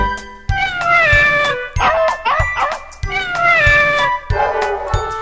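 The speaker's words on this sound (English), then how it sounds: "These are sounds of cats and dogs waiting for you to help their cause." Cats meow repeatedly in drawn-out, tonal cries while dogs let out a few short barks between them, the animal calls loud and close in a busy, overlapping sequence.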